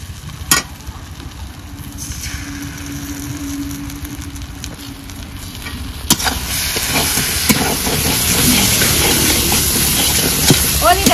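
Chili and mustard paste frying in a hot pan with a steady sizzle and hiss, stirring scrapes and clinks growing busier and louder toward the end.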